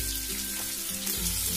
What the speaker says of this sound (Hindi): मैंने आलू इसके अंदर डाल दिए और इनको मैं जब तक भूनूंगी, यानी जब तक ये ऑयल में करूंगी